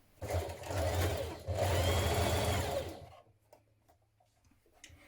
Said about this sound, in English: stitch it in place with a 1 centimetre seam allowance